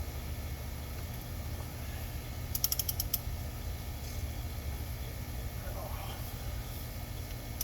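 A 5.7L Hemi V8 from a 2016 Dodge Charger R/T is turned over by hand, producing a quick, quiet run of ratchet clicks and faint mechanical creaks over a low background hum.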